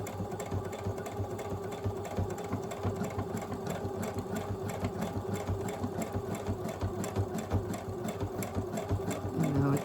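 A sewing machine stitches a buttonhole in a fast, even mechanical chatter of needle strokes with a low motor hum underneath, close and continuous throughout, with a louder burst at the very end.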